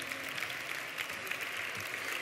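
Steady audience applause at a university graduation ceremony in Catalonia, continuous and moderately distant, filling the hall without pauses between names.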